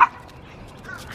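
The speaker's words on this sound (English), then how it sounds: "No bark." A dog gives a sharp yip right at the start, then whimpers and whines faintly in a quiet indoor space.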